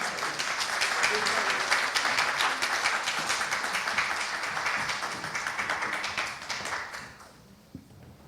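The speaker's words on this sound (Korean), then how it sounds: "큰 박수 부탁드리겠습니다" An audience at a power distribution forum applauds as the panelists come to the stage, with dense, loud clapping that fades out near the end, followed by a single tap.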